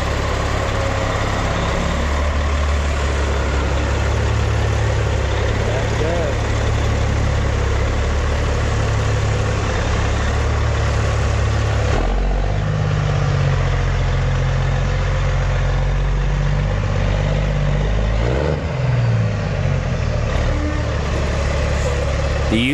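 Truck engine idling in gear, a steady low rumbling drone that runs continuously and loud, with a slight shift in tone partway through and no talking.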